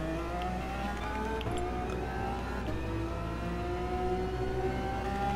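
Lamborghini Veneno engine in GT Sport revving steadily, a loud continuous mid-pitched drone with rising and falling tones and a constant low rumble, no voices.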